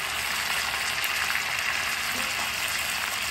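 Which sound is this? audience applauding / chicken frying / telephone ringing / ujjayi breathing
chicken frying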